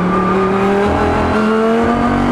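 Lamborghini Huracán GT3 race car on the Valencia racetrack, its engine roaring loud and close under hard acceleration, the pitch climbing and shifting through gears in one continuous howl.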